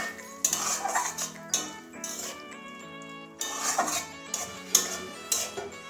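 A lid goes onto a pot of potato and poppy-seed curry with spring onions: a few ringing metallic clanks and clinks, close and clear, separated by short pauses with no speech.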